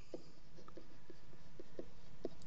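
Pen or marker writing out an algebra equation in point-slope form, a quiet series of short scratchy strokes at an uneven pace over a soft steady room hiss, with no talking.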